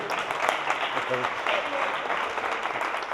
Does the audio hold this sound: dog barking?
no